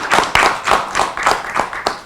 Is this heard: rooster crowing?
no